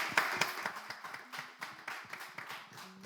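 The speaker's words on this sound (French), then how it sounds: "Applaudissez, s'il vous plaît." A small studio audience claps in sparse, uneven bursts, individual hand claps distinct rather than a full ovation, fairly quiet, with a faint tonal sound drifting underneath.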